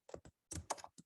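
Typing on a computer keyboard while entering a team name into a table in a browser word processor: a few short, quiet bursts of clicking keystrokes separated by brief pauses, with no talking.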